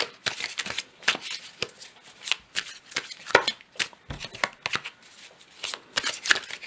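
Tarot cards shuffled by hand nearby, a rapid irregular series of crisp riffling flaps and soft slaps, fairly quiet, with no talking.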